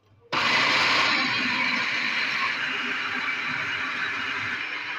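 An electric chopper switches on abruptly and whirs loudly and steadily, grinding a beef kofta mixture of minced meat and spices, its motor noise close and continuous until the end.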